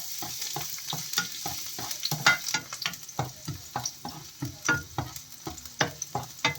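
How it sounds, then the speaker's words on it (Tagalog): Garlic sautés in a pan for a sardine and spinach dish, with a soft sizzle under a regular series of clattering stirs and scrapes of the spoon against the pan. "Isahin ko na yung bawang."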